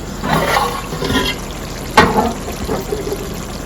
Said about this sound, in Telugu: ఇప్పుడు మనం ఇందులోకి నీళ్ళు పోసేసుకున్నాము